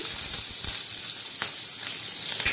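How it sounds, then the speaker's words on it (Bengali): Slit green chilies and onion frying in hot oil in a pan make a loud, steady close-up sizzle with a few sharp crackles. "এবার তেলের মধ্যে আমি দুটো কাঁচা লঙ্কাকে চিড়ে নিয়েছি আর কিছুটা পেঁয়াজ দিয়ে দিচ্ছি"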